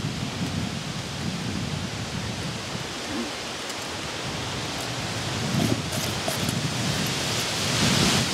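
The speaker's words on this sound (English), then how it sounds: "ooh, storm coming in" Steady, loud rain and rumbling thunder from an approaching storm at an outdoor campsite, a continuous wash of noise that swells slightly toward the end, with no talking.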